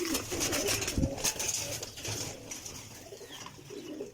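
Parwazi flying pigeons coo and shuffle close by while being handled and taken out one by one, with a soft thump and rustling amid steady cooing.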